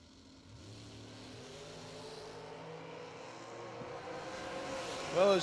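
Engine noise at a drag strip during a race with a dragster in one lane and a 1967 Camaro in the other. A steady mid-distance drone with rising harmonic tones builds gradually and swells louder near the end.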